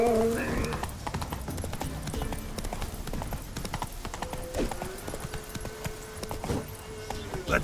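Roach, the horse in The Witcher, clip-clops at a gallop in a quick continuous rhythm, with a short whinny at the start and game ambience under the hoofbeats.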